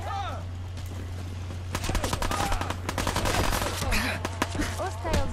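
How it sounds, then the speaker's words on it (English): Bursts of rapid gunfire from the video game Fallout crackle through a busy firefight, with sharp automatic volleys and scattered single shots over a steady low game hum, while voices speak at times. "Who's shooting at me now?"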